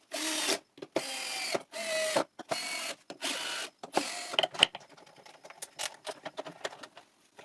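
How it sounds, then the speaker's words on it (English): Disc sander sanding a piece of wood after fresh sandpaper is stuck on: short bursts of whirring, abrasive grinding separated by pauses, then lighter intermittent scraping and taps, close and fairly loud with no talking. "I press it and I sand a piece of wood, and it works perfect."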